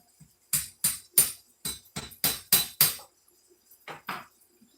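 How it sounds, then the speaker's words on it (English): Hammer blows strike repeatedly in a kitchen, about nine sharp, ringing hits in fairly quick succession with a brief pause before two more, close and loud with a slight glassy clink. "Am I like the only one that uses a hammer in the kitchen?"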